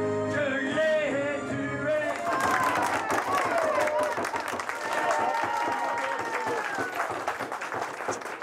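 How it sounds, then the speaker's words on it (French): A TV show audience applauds two lookalike contestants. A short stretch of music gives way to loud, dense, sustained clapping from a large crowd, with a presenter's voice heard over it. "on les applaudit très fort, tous les deux"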